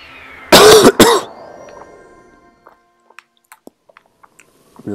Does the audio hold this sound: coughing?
yes